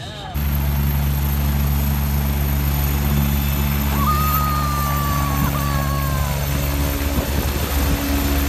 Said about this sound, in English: And there's also a random helicopter there.